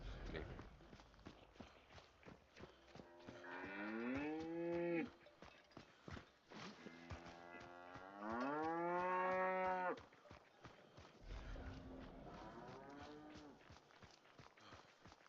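Several cattle mooing in the video game Hunt: Showdown, long tonal lows rising and falling in three separate calls, close and loud, over a steady patter of footsteps.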